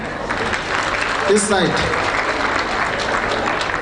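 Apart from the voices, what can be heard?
audience applause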